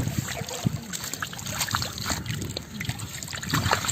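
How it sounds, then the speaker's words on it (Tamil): Clean rainwater trickles and splashes steadily outdoors during a stormy downpour at a roadside village food stall, a broad wet hiss with scattered drips and gusts of wind across the mic. "நண்பர்களே பாருங்கள் சுத்தமான மழை தண்ணிங்க"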